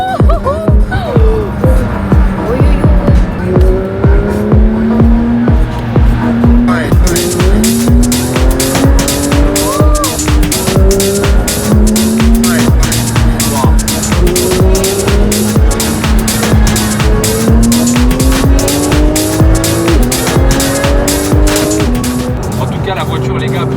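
A Porsche GT3 RS sports car drives hard, its loud engine climbing through repeated rising revs, with a brief quieter start before the rapid, sharp pulsing of the engine takes over and continues.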